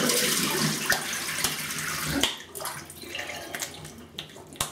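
Tap water runs steadily into a sink for a rinse after shaving with Kapo Bulgarian shave cream, a continuous close splashing flow with small knocks and shifts as hands move under the stream.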